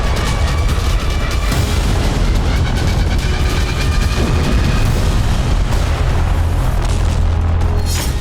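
Bombs exploding at the Nova Kakhovka water plant in wartime, a loud continuous rumble of heavy booming blasts with deep low-end thuds throughout.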